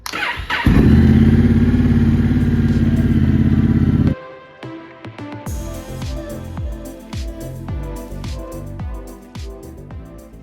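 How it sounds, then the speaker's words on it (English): A Honda motorcycle, a Rebel or Navi, starts with a short crank and then holds a loud, steady idle close by for a few seconds before cutting off, followed by faint clatter and handling noises. "then start it up and let the bike run just for a few minutes, get it through the system."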